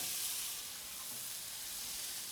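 Peppers, potatoes and leeks cooking in a pan for a polenta and vegetable casserole, giving a steady, even sizzle that holds at one level throughout with no talking.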